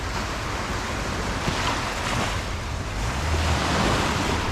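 Ocean waves wash steadily onto a beach on a clear day, with wind buffeting the microphone in a continuous, fairly loud roar of surf and no voices.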